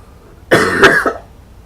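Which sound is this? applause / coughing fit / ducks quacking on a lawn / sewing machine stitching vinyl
coughing fit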